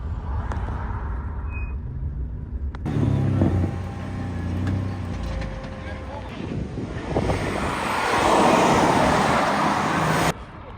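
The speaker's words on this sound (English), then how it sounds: "we made it to the drag strip. It's diesel versus diesel, mostly some BMWs, some Audis." Diesel BMW and Audi cars at a drag strip, heard as loud, continuous roaring engine and road noise with wind buffeting, swelling in two stronger bursts that suggest cars launching and passing nearby.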